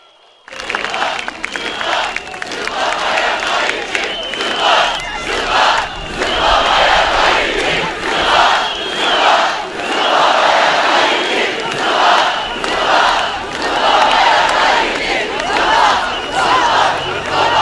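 A large outdoor crowd at a CHP political rally in Pendik applauds and cheers in rolling waves, loud and close, with chanting bursts and a few voices rising over the noise.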